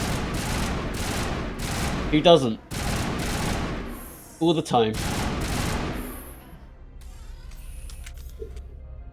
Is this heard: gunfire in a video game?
yes